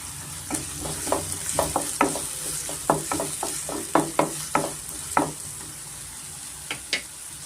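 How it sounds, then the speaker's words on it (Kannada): Onions fried with salt in a pan crackle with a close, steady sizzle, punctuated by a lively run of rhythmic spatula taps and scrapes against the metal. "ಸ್ವಲ್ಪ ಈರುಳ್ಳಿನ ಚೆನ್ನಾಗಿ ನಾವು ಫ್ರೈ ಮಾಡ್ಕೊಬೇಕಾಗುತ್ತೆ"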